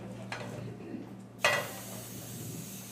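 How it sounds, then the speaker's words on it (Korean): A cooking oil spray gives one short, sharp hiss about halfway through, set in a quiet kitchen with faint background hum and a smaller earlier spray-like burst. "이 스프레이 오일을 좀 써보겠습니다"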